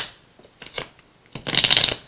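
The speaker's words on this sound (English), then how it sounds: "So, one last shuffle here on the clarifiers." Tarot cards being shuffled by hand, a few soft riffles and taps building into one loud, dense shuffle near the end, close up with no talk.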